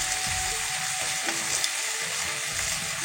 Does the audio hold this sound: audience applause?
no